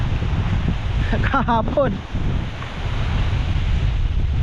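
Strong wind from the tail of a typhoon roars steadily and buffets the microphone with a low rumble, while a voice briefly speaks partway through.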